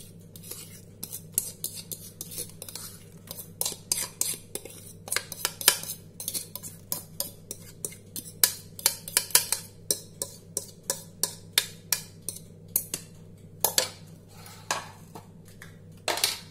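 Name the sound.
beating mashed banana into cake batter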